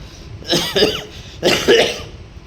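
Two harsh coughs, close up, the second following about a second after the first, each a short burst of rough throaty bursts.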